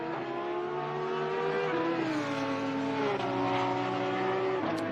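Race car engines, a Porsche among them, in the ACC racing game at Bathurst, drone loudly and steadily with shifting tonal pitch as the cars sweep past, with a brief tire squeal near the end.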